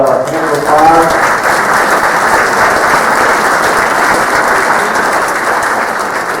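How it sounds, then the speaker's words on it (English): An audience at a township community meeting gives steady, loud applause for volunteers in black polo shirts, a dense continuous wash of many hands clapping, with a few voices murmuring underneath. "Let's give them a hand of applause"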